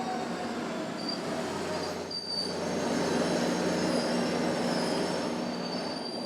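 A train rolls in close by, metal wheels squealing in thin high tones over a steady low rumble, with a brief dip before the noise swells again.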